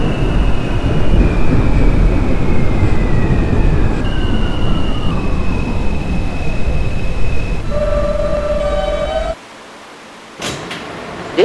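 An F Express subway train in the Openbve train simulator game rolls along with a loud, steady rumble and tonal whine. Rising motor tones follow, then the noise drops sharply near the end, leaving brief faint clunks.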